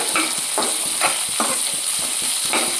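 Leftover chapati cut into noodle strips fry and get stirred in a pan, giving a steady sizzle broken by repeated scraping strokes of a spatula, close and fairly loud, with no talking.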